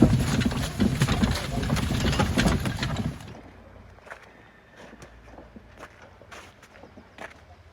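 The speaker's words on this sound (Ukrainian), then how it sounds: "Ось кобили їдуть." Hooves of a pair of draft-horse mares clip-clop at a steady walking rhythm, loud and close at first under engine-like noise, then lighter, scattered steps as the rumble drops away.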